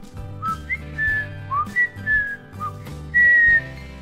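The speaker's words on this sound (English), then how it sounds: "It allows me to whistle." A person whistles with the mouth in a string of short, clear melodic notes over soft background music, ending on one longer, louder held note.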